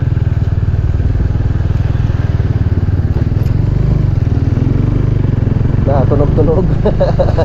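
Close, loud idle of a motorcycle with sidecar, its exhaust pulsing in a fast steady putter throughout while voices talk over it toward the end.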